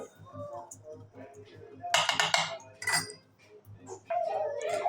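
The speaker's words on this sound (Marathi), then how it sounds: "असं मिक्स करून घ्यायचं आहे" A spoon clinks and scrapes against a bowl as ingredients for a crispy potato snack are mixed, with irregular metallic taps and stirring under faint background noise.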